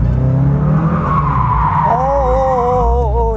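A Hyundai RM19 mid-engine sports car's engine roars loudly as tires squeal in long rising and falling tones, the sound of the car sliding through a drift close by.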